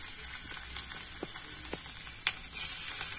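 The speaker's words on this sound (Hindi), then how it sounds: "अब ये गर्म हो चुका है तो हम अब इसमें ऐड करेंगे कटे हुए लहसुन।" Chopped garlic hitting hot refined oil in a pan for a Manchurian dish, a steady soft sizzle with a few faint stirring clicks and a brief louder crackle near the end, fairly quiet and close.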